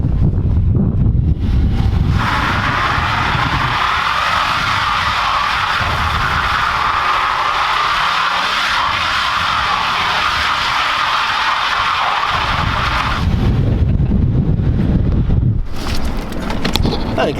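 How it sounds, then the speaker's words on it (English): Wind rushes past while the shop truck drives, a loud, buffeting roar with a brighter hissing band through the middle stretch and heavier low rumble at the start and end. "So might get a little windy here, but let's see what the shop truck can do."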